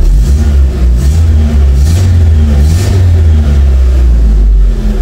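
A car engine revs loudly and repeatedly inside a garage, rising and falling in deep surges with a rumbling, echoing tone.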